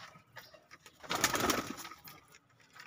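Pigeons in a breeding setup give soft cooing calls close by, with a louder burst of bird sound in the middle before it settles back to quieter calls.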